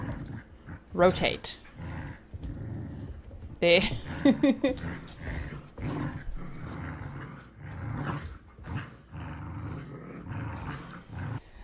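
Two dogs snarl and growl at each other in a house, with rough bursts of aggressive growling and snapping that rise and fall over several seconds, while a person speaks briefly nearby.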